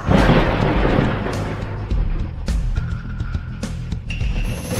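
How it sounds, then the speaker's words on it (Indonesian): Thunder and lightning strike sound effect, a loud crashing rumble at the start that rolls and fades, followed by softer crackles and a faint tone later on. "Cepat sambar petir."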